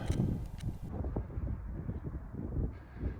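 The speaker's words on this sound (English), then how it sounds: "Hope the microphone's alright, so it got a bit windy." Strong wind buffets the microphone on the summit of Loughrigg Fell in the Lake District, a steady low roaring rumble with gusts rising and falling throughout, close and loud, with no one speaking.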